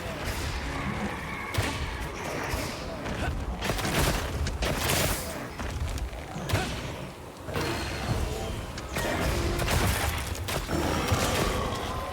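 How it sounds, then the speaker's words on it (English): Big explosions in the video game Monster Hunter Wilds, a rapid series of heavy booms, thuds and whooshes during combat, loud and dense, with a voice briefly speaking over the action. "Big explosions."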